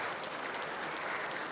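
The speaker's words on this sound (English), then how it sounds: "A round of applause to the panelists." Applause from an audience, steady clapping that fills the space for a moment, moderately distant.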